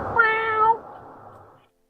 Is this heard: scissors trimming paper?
no